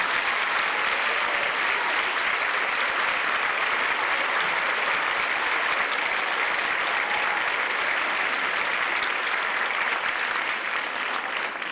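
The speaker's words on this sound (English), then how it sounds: "let's give them all a big round of applause" An audience at a Little Miss and Little Mr. pageant applauds steadily for the contestants, a thick, even wash of clapping that holds loud for the whole stretch with no talk over it.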